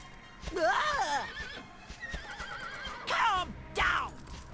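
A horse in the video game Dragon Quest 8 neighs and whinnies loudly several times while bucking, with wavering, rising-and-falling cries and faint hoof clatter between them.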